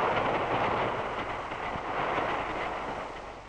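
A streamlined passenger train powered by two diesel motors runs on rails at speed, a steady, moderately distant rumbling rush with wind-like noise that fades slightly toward the end.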